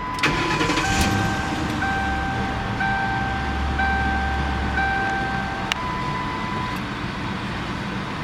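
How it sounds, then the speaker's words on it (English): A 2008 Ford Crown Victoria Police Interceptor cranks and starts with a clunk, then settles into a loud, steady close idle while a high electronic tone beeps in repeated pulses over the engine. "Let's go ahead and fire her up real quick here."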